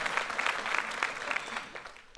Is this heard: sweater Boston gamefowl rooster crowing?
no